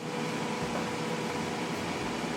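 Air fryer running after being started to cook salmon, a steady, even fan whir with a broad hum and no changes, fairly loud and close, no talking.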